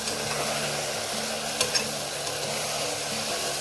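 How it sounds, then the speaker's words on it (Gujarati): Chopped ridge gourd frying in hot oil in a pan, a steady close sizzle with faint stirring scrapes and a couple of brief clinks partway through, no voice. "આપણે સરસથી તેલમાં બધું મિક્સ કરી દીધું છે"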